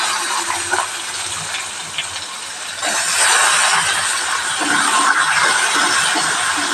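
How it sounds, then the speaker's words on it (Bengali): Onions frying in a pan for a Bengali jackfruit and prawn curry, a steady broadband sizzle that swells louder and denser partway through, with no talk over it. "এবার আমি পেঁয়াজটা ভেজে নেব।"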